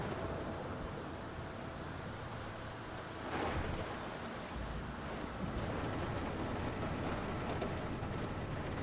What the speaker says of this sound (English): I like the rain noises.